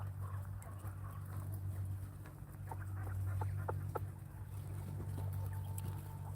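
Turkeys and chickens in a backyard flock cluck and chatter over a steady low hum, a scattered run of short bird calls at moderate distance, with no speech.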